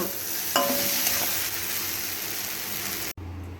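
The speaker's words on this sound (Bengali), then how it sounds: "ভালো করে নাড়াচাড়া করে পাঁচ মিনিট মতো রান্নাটা করে নেব" Prawns and taro stolons stir-fry in a wok, a continuous loud sizzle with scraping stirring strokes throughout, ending in an abrupt cut.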